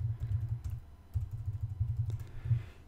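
Fingers type on a computer keyboard in a quick, irregular run of soft, close clicks and key taps, with brief pauses between bursts and no talking.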